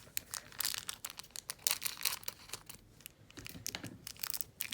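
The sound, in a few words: packaging of Czech glass pendant being opened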